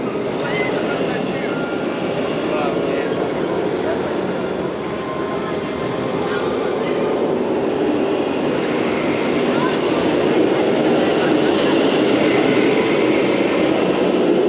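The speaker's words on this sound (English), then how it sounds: "Oh, there's the second train." A roller coaster train at SeaWorld Orlando passes as a steady, broad rumble that holds loud across the whole stretch and swells slightly toward the end, with crowd chatter faintly mixed in.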